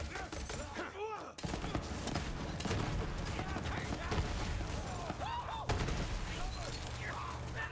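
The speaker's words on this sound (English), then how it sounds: "I like this cannon on this vehicle." A vehicle cannon fires in Borderlands 3 multiplayer gameplay, a busy mix of repeated shots and blasts mixed with other game effects, with voices speaking over the action.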